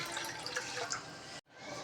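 Water pours steadily into a cooking vessel, a continuous splashing rush that cuts off abruptly, then resumes briefly.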